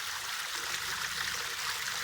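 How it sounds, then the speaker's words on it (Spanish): Filtered water cascades back into a backyard fish pond, a steady close splashing and trickling flow with constant bright hiss and no pauses. "Y acá el agua, pues después de que pasa por ese filtro, regresa al estanque en forma de cascada."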